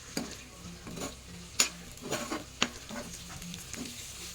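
Chicken sizzling in a frying pan while a utensil stirs it, with repeated scraping strokes and a few sharp clinks against the pan over a steady low fry.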